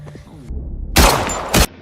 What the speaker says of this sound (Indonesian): Jen terlihat sedih saat Tommy ditembak mati